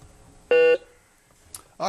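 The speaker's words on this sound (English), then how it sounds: "right on the buzzer, too" A quiz bowl timer buzzer at a high school competition between Benton and Russellville sounds as one loud, sustained electronic tone of about a quarter second, followed later by a short click and a brief burst of speech.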